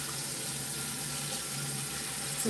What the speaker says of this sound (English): So put some water on the fire